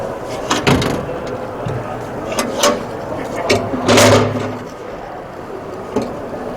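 Metal door of a Cimarron horse trailer at a trade show being swung open and latched back, with several clunks and rattles amid a noisy hall and someone talking nearby.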